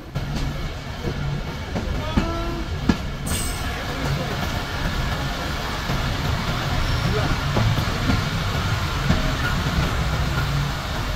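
The Titumir Express, a new white rake on its first run, pulls late into its terminus at Chilahati railway station with a steady rolling rumble, light rail clatter and a few sharp metallic clicks.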